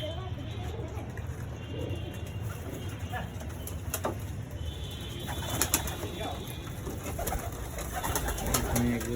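Pigeons cooing in a backyard loft, low soft coos recurring under a steady background hum with occasional sharp clicks and light scuffling, with faint speech at moments.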